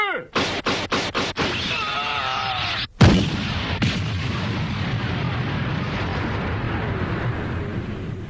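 Cartoon cannon fire: a rapid series of sharp booming shots, then one big blast that rings out into a long rumbling, crackling tail.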